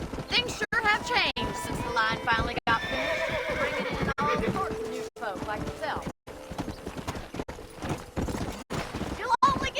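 A horse whinnies loudly in a video game near a train station while hooves clip-clop steadily beneath it, and someone talks over the riding.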